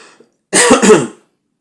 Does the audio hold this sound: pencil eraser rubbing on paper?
no